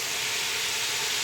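Beef sizzles as it is fried in oil for a beef pulao, a dense, steady, loud hiss that stays constant throughout with no pauses and no voices.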